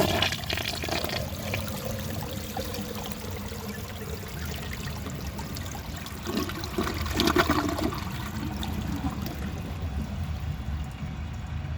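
A 1974 Eljer Sanus low tank toilet flushing a grocery bag: a loud, continuous rushing and gurgling of water that swirls steadily for about twelve seconds, with a brief louder surge midway.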